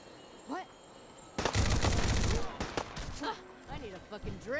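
A burst of rapid automatic gunfire in Fallout 4, loud and dense for about a second and a half, then scattered single shots; a voice speaks briefly before and after.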